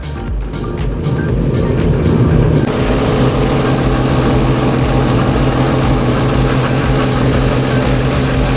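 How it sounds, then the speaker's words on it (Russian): A tractor-driven Italian Negri farm wood shredder roars steadily and loudly, a dense continuous mechanical drone with engine hum that builds in the first second and then holds constant, close by with no voices. "Итальянский фермерский суперизмельчитель дерева Негри с приводом от трактора."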